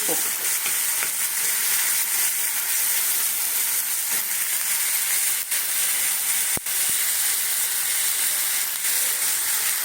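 Potatoes frying in a pan of ghugni filling, giving a steady, close sizzle and hiss that holds throughout with only small dips, and no talking.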